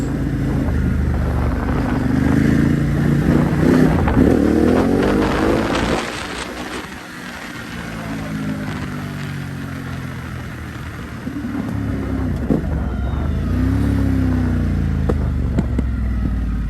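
Ducati Hypermotard 950SP motorcycle engine while riding, with rising and falling rev sweeps as it accelerates through gears, dipping mid-way before climbing again under steady wind rush.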